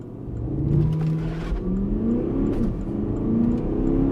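A Porsche Cayenne 4.2 TDI V8 revs loud and close with the brake held for a launch-control start, its engine note rising and dipping in several sweeping surges over a steady rumble, with no talk.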